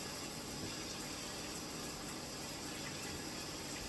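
Steady running water, likely from a tap, flows without a break as warm water is used during an emergency rescue of a hatching chick, a close broadband hiss filling the whole stretch.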